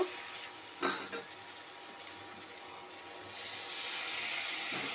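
Japanese puti fish being stirred in a pan with chilli and turmeric, giving a steady frying sizzle with a few louder scrapes near the start and a brighter hiss rising toward the end.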